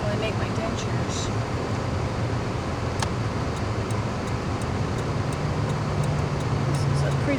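Constant traffic roars along a big road, a dense close wash of car and engine noise with no break, with a faint tick now and then.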